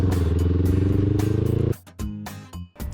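A Honda CBR500R motorcycle, low on fuel, cruises at steady speed with a loud, even engine drone, then abruptly breaks off into choppy, clattering bursts and wind noise.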